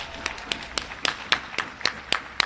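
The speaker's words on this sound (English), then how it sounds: "We applaud them." Scattered clapping from a sparse audience at a credit union annual general meeting, a handful of sharp, separate hand claps at uneven intervals rather than a full ovation.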